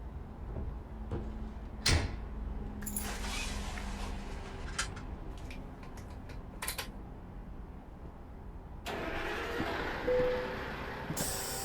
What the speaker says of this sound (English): Get all the extra sounds of like the gas cap being put on and the trucker getting back in the truck.